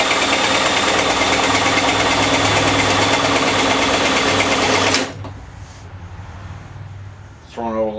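MTD Yard Machines push lawnmower engine running loud and steady with a buzzing, rapid rhythm, then cutting off abruptly, leaving quiet background and a brief rattle near the end.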